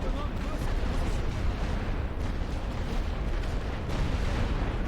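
Artillery rolling barrage in The Great War: Western Front game, a dense continuous rumble of booming shellfire with overlapping blasts, while someone talks over it.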